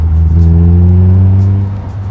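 Caterham Seven sports car engine idling and revving close by, a steady loud low rumble with a slight rise in pitch, heard alone.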